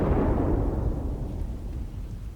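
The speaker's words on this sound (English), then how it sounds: "Your life is in danger because a storm is coming." Storm thunder in the video game Leisure Suit Larry: Wet Dreams Dry Twice, a loud, deep rolling rumble that fades steadily over about two seconds.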